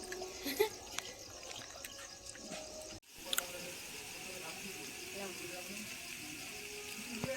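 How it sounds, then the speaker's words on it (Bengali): Water poured onto beaten lentils for a rice-flour pitha, a soft, faint trickle and splash that runs under a person talking. "এবার আমি কিন্তু জল ঢেলে দিচ্ছি"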